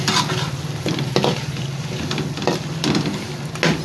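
Chicken frying with black pepper, whole cumin and coriander powder for a chicken degi pulao, a loud close sizzle broken by repeated scraping stirs of a spoon against the pot.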